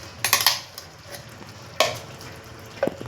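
Grated coconut and ground paste being stirred in a pan, a soft frying hiss with a few bursts of spoon scraping and clinks against the metal, close and fairly quiet.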